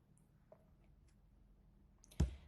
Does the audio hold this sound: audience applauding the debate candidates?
no